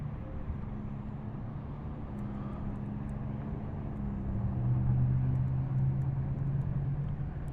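An RC warbird model airplane flies in strong wind, giving a steady low motor drone mixed with wind rumble. The drone grows a little louder partway through as the plane comes lower and closer. No one talks.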